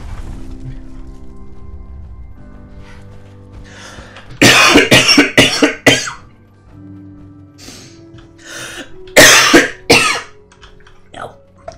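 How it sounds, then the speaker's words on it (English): A streamer breaks into two bursts of harsh, loud coughing, each a rapid cluster of hacks a few seconds apart, with quieter throat noises between and around them. "No, just ignore my coughing"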